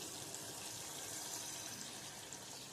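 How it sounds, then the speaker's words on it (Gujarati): Water poured into a pan of Kathiyawadi stuffed brinjal and potato curry makes a steady, continuous gushing splash that lasts the whole moment. "હવે આપણે એમાં પાણી નાખીશું"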